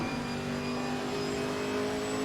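On-board engine of a Camaro race car lapping Zolder in a sim racing league, a loud, steady, sustained drone held near and constant throughout.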